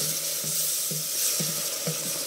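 Mineral water is poured slowly into a mixture. A steady watery hiss carries soft, low knocks that repeat about every half second, with no voices.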